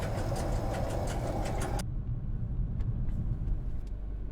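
A car engine in a video game runs with a heavy, continuous low rumble, loud and steady, while a brighter layer of noise on top cuts out partway through.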